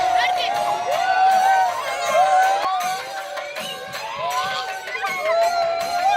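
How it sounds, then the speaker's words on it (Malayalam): Schoolchildren at an aided upper primary school event hooting, whooping and cheering together, a loud continuous crowd of high young voices with shrill shouts rising and falling throughout. "ഇവരുടെ കൂവലും ആർപ്പുവിളികളും കേൾക്കുമ്പോൾ എൻ്റെ കുട്ടിക്കാലമാണ് എനിക്കും ഓർമ്മ വരുന്നത്"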